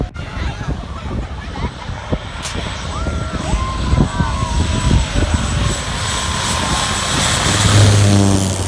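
An airplane flies overhead coming in to land, its steady engine roar building and swelling toward the end over outdoor background noise.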